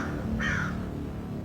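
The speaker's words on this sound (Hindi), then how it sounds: "ये क्या? एक कौवा? ये यहाँ कैसे आया?" A crow caws once, short and harsh, over a steady low background rumble.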